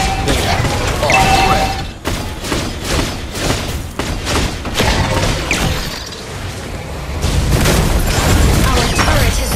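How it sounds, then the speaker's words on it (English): Booming crashes and thuds of a turret being destroyed in a mobile battle game, several heavy impacts in a row over a busy, loud mix of game effects. "Our turret has been destroyed."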